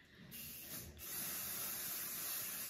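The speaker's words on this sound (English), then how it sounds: "we're going to give it one more spray up here" Hairspray hissing from an aerosol can onto styled hair, a steady close spray that runs nearly continuously with a brief pause early on.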